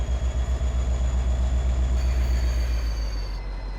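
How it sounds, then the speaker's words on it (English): A simulated locomotive rolling steadily along the track in a train simulator game, with a low continuous rumble, a rhythmic clicking pulse early on and a thin high whine over the top, close and loud with no talking. "We're gonna park it up next to the other locomotives."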